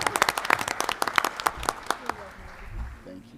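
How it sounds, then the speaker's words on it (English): An audience at a school board of education meeting applauds retirees: a burst of distinct, close hand claps that thins out and fades, with voices talking underneath. "let's give everybody a round of applause for sure"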